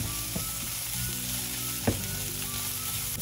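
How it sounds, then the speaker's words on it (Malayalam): Masala sizzles steadily in a pan over a medium flame while a spoon stirs it, scraping and knocking against the pan now and then, close up with no talking. "ഇനി ഇത് മൂക്കണ വരെ ഒന്ന് ഇളക്കി കൊടുക്കുക"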